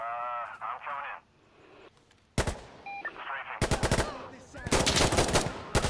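An aircraft's strafing run in a video game shooter: rapid, loud bursts of heavy automatic gunfire rattle in two long volleys, with radio-style voices talking in the brief gaps before the firing.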